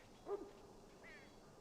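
A mage-bred war dog in the Dragon Age game gives a short, faint whimpering yip followed by a softer whine, heard quietly in a dim game scene.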